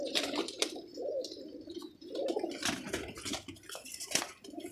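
Pigeons cooing in repeated soft throaty phrases, close by, mixed with faint clinks and rustling in the background.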